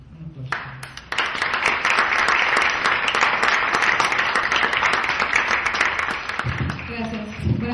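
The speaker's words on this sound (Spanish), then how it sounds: "Ella es Terenuri. Un aplauso." Applause from a poetry-reading audience swells after a brief spoken introduction, holds dense and loud for several seconds, then fades as a voice begins speaking near the end.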